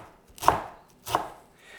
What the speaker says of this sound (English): chop the parsley.